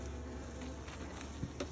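Honey bees buzz steadily around a beehive from which a colony has been shaken out, a close, continuous drone with a couple of brief louder passes near the end.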